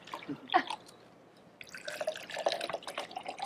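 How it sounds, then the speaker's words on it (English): Perrier sparkling water is poured into cups indoors, making a quiet splashing trickle, then a short lull, then a longer, fizzier pour with faint bubbling. "we can pour some in each cup"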